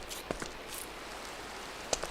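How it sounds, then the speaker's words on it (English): Steady rain falls as a soft, even hiss with a few sharper drips and taps close by, and no one speaks. "I'll let you listen to the rain."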